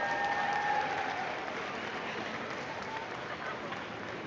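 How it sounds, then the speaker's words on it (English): Crowd applause for festival participants at an Asian Pacific Islander Heritage Month celebration, a dense, even wash of clapping held at a steady level and heard from a distance, fading slightly after the first second. "Everyone, please, round of applause for everyone who participated and got their shoes on the floor."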